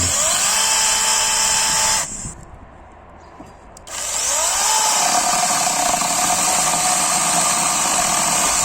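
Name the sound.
Procraft PKA46 cordless chainsaw cutting wood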